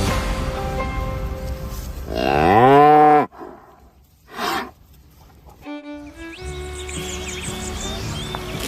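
Dairy cattle mooing loudly and close, a long drawn-out low then a second shorter moo after a pause, with faint chirping birds in the background.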